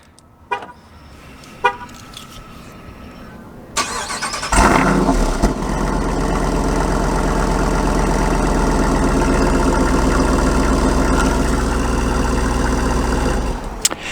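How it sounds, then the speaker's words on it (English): A few short blips, then a Jeep Wrangler Rubicon 392 V8 with exhaust valves open roars to life and revs hard, a loud, deep, throaty rumble sustained for about ten seconds. "That just sounds like a crazy beefy V8."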